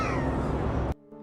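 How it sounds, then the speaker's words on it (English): A loud cat-like growl in a forest at night, one sustained harsh cry that cuts off abruptly near the end. "they hear a growling noise that sounds like a cat"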